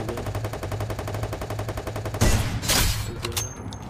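Sniper rifle fire in a mobile battle royale game: a fast, even run of close shots for about two seconds, then two heavier blasts and a faint fading tail.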